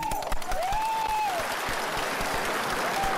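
Audience at a 2003 Vietnamese veterans' convention applauds in a broad, sustained wash of clapping, with a few individual claps standing out and faint tonal feedback-like whistles sliding above the crowd.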